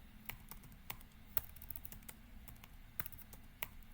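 A terminal command is typed on a computer keyboard: quiet, irregular keystrokes clatter close by, with a few sharper taps standing out.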